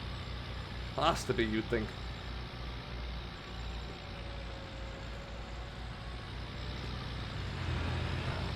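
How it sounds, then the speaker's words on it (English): Concrete trucks driving nearby in Farming Simulator produce a low, steady engine rumble with a faint droning tone, swelling slightly near the end; someone speaks briefly early on over it. "There's a lot of concrete trucks around here."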